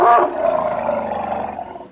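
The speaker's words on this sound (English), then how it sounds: "So many different communications an elephant can make." African elephant at dusk in a South African game reserve giving a loud, close roar-like call that starts sharply and fades into a long, trailing rumble.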